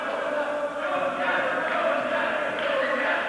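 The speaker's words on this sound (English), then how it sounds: "We can hear people cheering for Union." Spectators at a 1982 volleyball tournament in Allentown cheer for the Union team, a steady dense roar of crowd voices filling the hall without pause.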